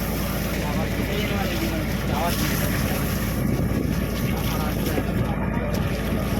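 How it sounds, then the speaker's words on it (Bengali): A fishing trawler's engine runs with a steady, loud low rumble amid wind and water noise as the boat heads out to sea, with faint voices in the background. "আমাদের ট্রলার এবার বেরিয়ে যাবে"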